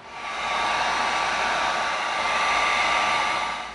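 A heat gun heat-seals cut EVA foam pieces for an arm cannon build, producing a steady, close blowing whoosh like a hair dryer that rises at the start, holds evenly and tails off, with no voices.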